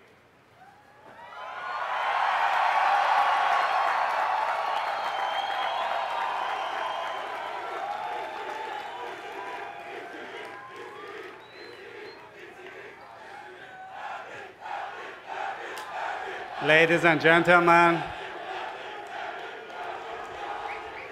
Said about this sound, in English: I ask the graduates to give one more big cheer.